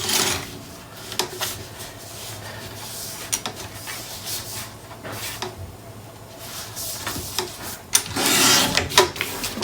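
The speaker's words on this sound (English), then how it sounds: "lay it in my trimmer, and trim a slight bit off that edge" Paper trimmer slicing the edge of scrapbook paper, with scraping, rubbing strokes and sharp clicks scattered across the clip, close and moderately loud.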